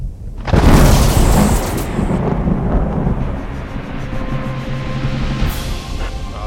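A close lightning strike during a thunderstorm lands as a sudden loud crack, then breaks into a long, heavy rolling rumble that fades slowly.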